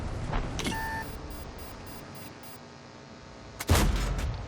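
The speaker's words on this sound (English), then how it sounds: "Missed my shot on that tank." A tank cannon fires in World of Tanks with a sharp, booming blast, preceded by a fainter earlier report and a short beep, against a quiet rumbling battlefield background.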